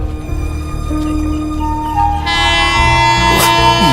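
A train rumbles along steadily, then a loud, sustained horn blares over it before the rolling noise carries on.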